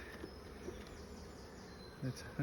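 A soft, steady hum of many honeybees buzzing at the front of a cedar hive, faint and continuous, with a couple of slightly louder passes near the end.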